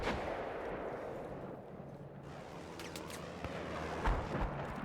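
Sniper gunfire in an online shooter video game, heard as a dense, continuous rumble of shots and blasts with a slightly louder crack near the end.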